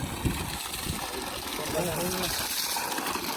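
Water gushes from a Texmo 7.5 hp 20-stage pump in a steady, rushing flow with a low churning undertone, while someone talks loudly over it close by.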